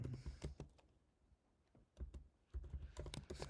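Bursts of typing on a computer keyboard, quick clusters of key clicks separated by short pauses, close and fairly quiet.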